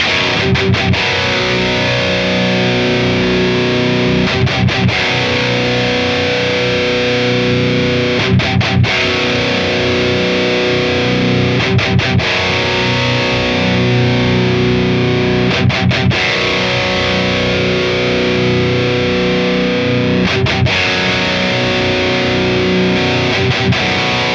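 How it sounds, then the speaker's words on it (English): Heavily distorted electric guitar through an Attacker drive pedal plays loud, sustained chords with brief rhythmic stabs recurring every few seconds, continuous and alone. "I'm going to add some distortion, and I'm going to start off with my favorite all-round drive pedal"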